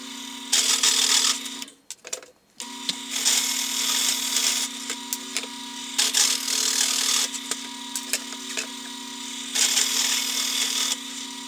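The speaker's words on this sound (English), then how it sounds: "It's a 2-inch hole saw, and I'll cut out the corners." A 2-inch hole saw on a drill press grinds steadily through wood with a loud, continuous rasping whine, pausing briefly once before resuming its cut.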